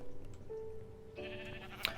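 A sheep bleats once inside a blocky multiplayer video game, a short wavering call heard close over a soft ambient music bed, followed by a bright chime.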